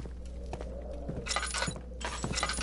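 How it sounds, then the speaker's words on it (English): Glass breaking in the horror game Amnesia, two bright crunching shatters with tinkling shards and faint footsteps, close and moderately loud against a low background hum. "That's just broken glass."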